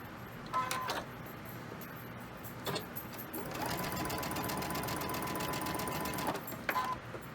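A sewing machine chain stitching quilt pieces runs in close bursts, with a short whir near the start, a brief pause, then a longer steady mechanical stitching run before stopping.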